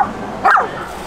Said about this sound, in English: The dog that just came out is the mother.